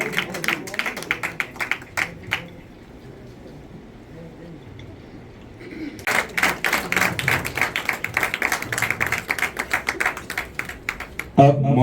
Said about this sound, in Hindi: एक बार इनके लिए स्वागत सर के लिए जोरदार ताली बंदी